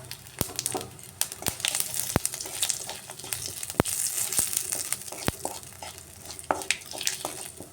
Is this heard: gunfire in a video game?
no